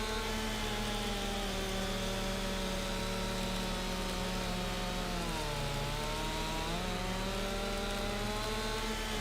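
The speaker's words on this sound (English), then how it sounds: "Pretty good chainsaw." Chainsaw cutting a tree in the video game Farming Simulator 25, a loud continuous buzzing whine that dips in pitch mid-cut as it bogs into the wood and then climbs back, heard alone.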